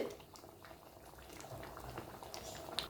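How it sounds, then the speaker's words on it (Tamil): Tiffin sambar for idli boils in a pot, with soft, faint, continuous bubbling and small pops heard up close and alone. "பாருங்க, ஒரு 5 நிமிஷம் நல்லா கொதிச்சு வந்துடுச்சு."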